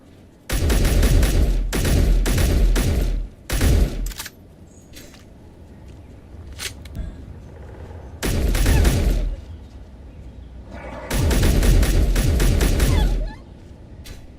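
Rapid automatic gunfire in the Space Engineers video game comes in several loud, sustained bursts, with short quiet gaps and a few single shots between them.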